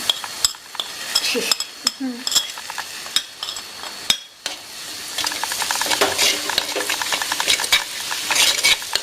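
Ginger and shallots fry in hot oil for a traditional lemon pickle, with scattered spoon clinks and scrapes on the pan early on, then a denser, louder crackling sizzle building up close by.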